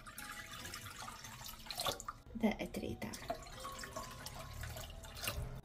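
Water pours into a large, deep pot for pickled pepper brine, a steady splashing trickle running under a short spoken remark in a kitchen.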